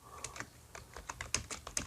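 Typing on a computer keyboard, a run of crisp, irregular key clicks at close range, some strokes sharper and louder than others, with no voices.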